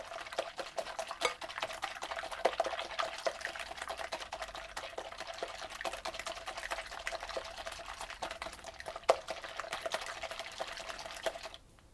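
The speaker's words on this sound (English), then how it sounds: "It's easier to whisk in a larger bowl until they're nice and frothy." Egg whites being whisked in a large bowl until frothy: a fast, continuous, fairly soft rattle and swish of the whisk with a wet, liquid texture, running without pause and heard alone before it stops.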